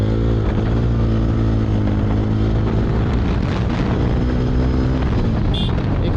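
Motorcycle exhaust droning steadily under acceleration, a loud continuous engine hum with rising harmonics, heavily buffeted by wind noise from riding.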